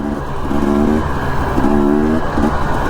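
A 1964 Chevrolet rolls along a dirt trail, its engine droning close and loud with a pulsing, uneven hum as the body rumbles over the rough ground.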